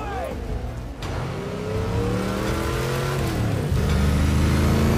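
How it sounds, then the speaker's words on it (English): The Batmobile, a souped-up muscle car in The Batman film, revs its engine loudly, the pitch climbing and surging over a few seconds amid rumbling film sound effects, with a brief tire squeal. "It's like a souped up Dodge."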